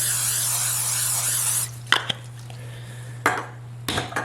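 A long hissing burst of aerosol spray, followed by a few light clanks and taps of a pan.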